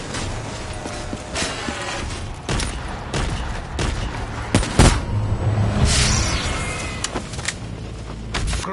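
Scattered gunshots crack in the Call of Duty Black Ops 3 zombies mode on Der Eisendrache, irregular sharp reports mixed with mechanical clanks and game effects, with one loud burst in the middle.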